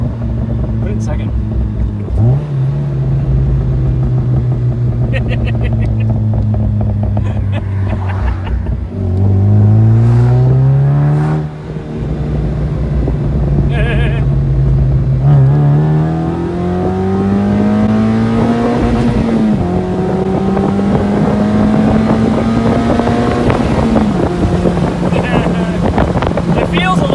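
A Mazda Miata with a crackle tune revs through the gears, its engine note climbing and dropping repeatedly over wind buffeting, loud and close throughout.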